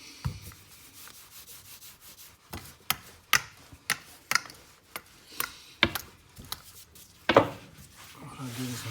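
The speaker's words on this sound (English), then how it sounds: "What I'll do is I'm just going to use the knife. I'm going to trim those down." A knife trims the edges of rolled croissant pastry on a work surface, giving a series of sharp, close cutting taps and scrapes in an uneven rhythm, with a voice speaking partway through.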